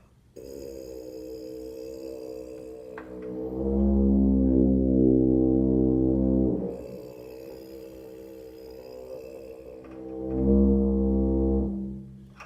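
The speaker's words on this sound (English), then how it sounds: "the kind of buzz that I hear most people making when they practice buzzing their mouthpiece on low brass" A low, buzzy brass mouthpiece drone held in long tones that swell and fade, rough and unresonant, played alone.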